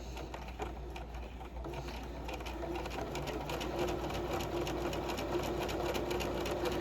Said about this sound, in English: we're going to stitch this at 1/2 inch using a permanent stitch, so there will be a back stitch at the beginning and end